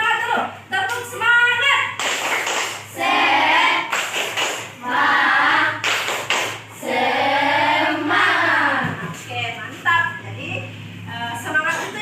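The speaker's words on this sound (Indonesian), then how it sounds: "Ayo, kita tepuk semangat dulu." A school class performs a rhythmic spirit clap, a chant of group voices punctuated by bursts of clapping that repeat in a steady pattern and fade out near the end.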